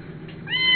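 A young rescued foster kitten meows once near the end, a short rising tonal cry over a faint low background hum, close and fairly loud.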